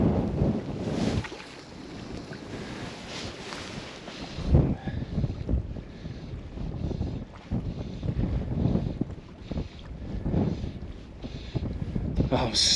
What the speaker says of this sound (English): it is not easy in this wind